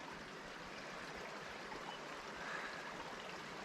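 Water flows steadily past a beaver dam in the Temagami woods, a constant close rushing and trickling that sounds alone with no voices.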